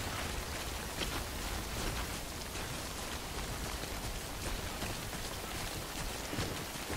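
Steady rain falls in the video game Death Stranding, a dense, even hiss of drops hitting the ground that holds at the same level throughout, with no talking.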